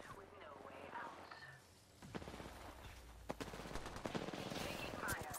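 Rapid automatic gunfire from a first-person battle in the video game Apex Legends, bursts of shots crackling close and loud in the second half over game effects, with a voice speaking briefly earlier.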